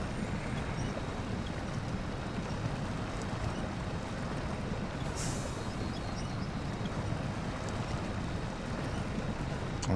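A Paystar truck in the SnowRunner video game grinds through deep mud, its engine note a steady, dense rumble that holds at a constant level with no talking.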